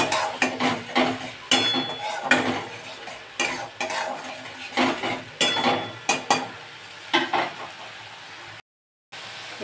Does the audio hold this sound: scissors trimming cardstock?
no